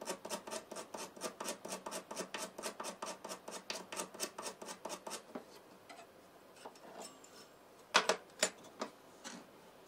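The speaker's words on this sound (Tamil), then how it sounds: "அந்த ரீடோட அந்த மேல் எண்டை வந்து ஸ்க்ராட்ச் பண்ணும்போது பிச்சு குறையுது" A metal file rasps rhythmically against the tip of a harmonium reed, about twenty quick, even strokes close up, then stopping, followed by a few scattered clicks and a brief louder scrape.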